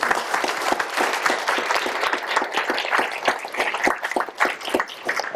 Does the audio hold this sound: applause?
yes